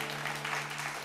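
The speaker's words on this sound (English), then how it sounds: "Thank you for the claps" Soft applause from an audience during a relaxed acoustic music stream, a steady patter of clapping heard alone over a low steady hum, not very loud.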